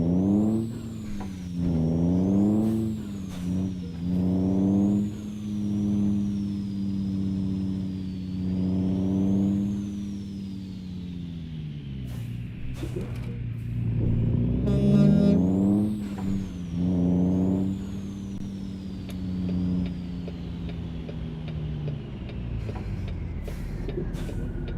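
A Peterbilt truck engine drives in American Truck Simulator, droning steadily and rising and falling in pitch through repeated gear changes, with a hiss of air brakes partway through and no voices.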